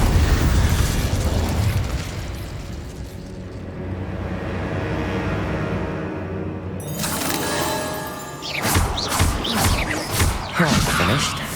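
In Hogwarts Legacy, an Incendio fire spell goes off in a crackling burst of flame that swells then fades. A fresh crackle of sharp bursts follows, with a voice speaking over parts of it.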